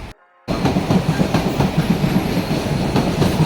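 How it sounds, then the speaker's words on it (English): A PATCO train rolls across the Benjamin Franklin Bridge, its wheels clacking rhythmically in a loud, steady rumble that starts abruptly after a moment of quiet and continues close by. "Patco train line."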